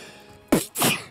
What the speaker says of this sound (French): Pff, à tes souhaits.